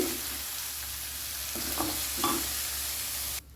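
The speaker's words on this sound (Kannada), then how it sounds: "ಇದು ಹೈ ಫ್ಲೇಮಲ್ಲೇ ಫ್ರೈ ಮಾಡಿ" Chicken gravy fries on high flame in a pan, giving a continuous loud sizzle with faint stirring scrapes before it cuts off abruptly near the end.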